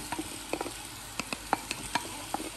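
Meat with chopped onion and tomato frying in a pan, a soft sizzle under repeated light stirring clicks and scrapes at close range, no talking.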